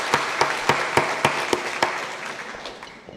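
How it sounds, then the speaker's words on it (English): An audience claps in steady rhythmic applause, a run of even claps that fades gradually over a few seconds, fairly close and without talk. "you all need a big round of applause"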